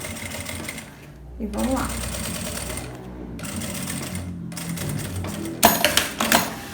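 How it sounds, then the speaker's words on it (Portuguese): A sewing machine runs in steady bursts while topstitching a seam with a longer stitch on a fabric toiletry bag, with a loud continuous mechanical whir, short pauses between runs and a voice speaking briefly over it. "vou aumentar o meu ponto e vou rebater aqui a costura"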